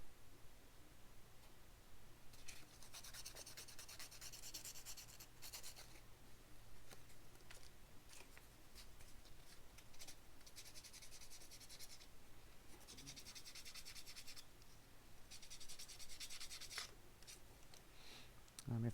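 Quiet scraping of a tool along the edges of a 3D-printed replica RC10GX89 car part, coming in short bursts of rasping strokes separated by pauses over a low steady hum, close and faint.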